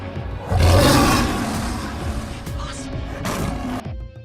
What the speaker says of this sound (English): Lion. The king of the jungle cannot stay out of this top.